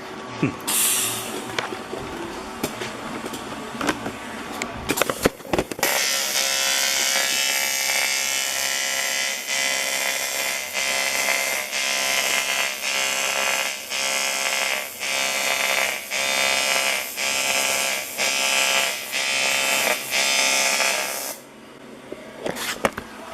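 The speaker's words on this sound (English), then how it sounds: "I better go check the fit up on this before I weld it up too much" TIG welding on a cold air intake gives a steady, loud crackling hiss that holds for about fifteen seconds and pulses slightly in rhythm. Brief clatters and handling noises come before it, and a softer hum follows.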